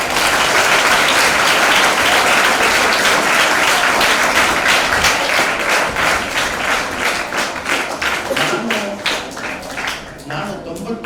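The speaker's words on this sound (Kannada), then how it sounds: "ಈಗ ಚಪ್ಪಾಳೆ ಹೊಡಿದೆ ಅವರಿಗೆ" Sustained audience applause at a school gathering in Hubli, dense, steady clapping that holds loud for several seconds before thinning into scattered individual claps near the end.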